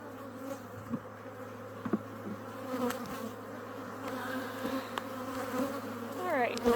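Honey bees hum inside Hive 4 as frames are drawn out and filled with honey and pollen, a dense continuous buzz from many insects close by, with occasional louder passes of individual bees near the microphone.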